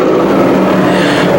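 Modified race cars roar around Can-Am Speedway, a loud, continuous engine drone with steady harmonic whine as the pack runs toward turn three, no pauses for the full stretch.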